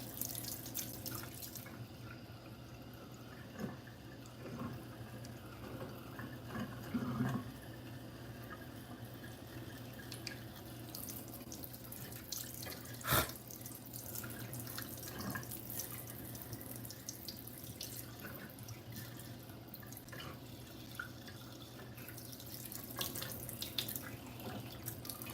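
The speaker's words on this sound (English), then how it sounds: "A little warm water." Warm water runs from a tap into a sink in a home, a faint steady trickle with occasional drips and small clatters, lasting throughout without talk.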